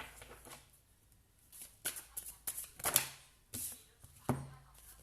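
Tarot cards are shuffled in a quiet room, with a run of crisp riffling and slapping bursts arriving in short irregular clusters, some louder snaps standing out against near silence.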